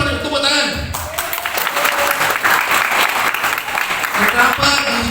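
An audience claps through a talk on Pancasila, dense sustained applause filling about five seconds, rising after a brief quieter opening with voices audible at the start.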